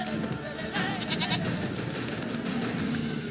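Goat bleating in The Witcher 3, a few short wavering bleats mixed into a steady bed of game ambience and background noise.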